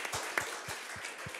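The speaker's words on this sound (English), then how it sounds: "I think we should give an applause to," Audience applause at a business angel panel about startup teams, a steady wash of clapping from a room, with a few low thumps under it, fairly even throughout a short burst.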